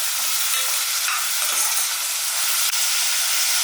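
Fresh garden curry leaves get stirred into a frying pan for an egg masala, a loud, dense hissing sizzle throughout with brief scraping pushes of the spoon, no voices.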